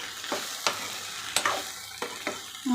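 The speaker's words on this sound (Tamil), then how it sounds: "அந்தளவுக்கு நம்ம வறுத்துக்கலாம் எண்ணெயிலேயே." Okra fries in oil in a pan, with a soft background sizzle and a handful of distinct spatula strokes scraping at irregular intervals, close and alone.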